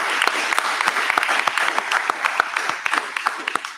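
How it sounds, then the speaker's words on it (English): An audience at a press conference for grant awards applauds a grant recipient, with dense, close clapping and distinct individual claps throughout, and faint voices underneath. "So we want to give them a round of applause."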